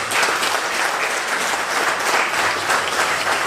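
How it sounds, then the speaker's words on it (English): Audience applause at a bank stakeholders' function in Berbice, steady dense clapping filling the room without a break, loud and close, with no speech. "So let's give them a round of applause."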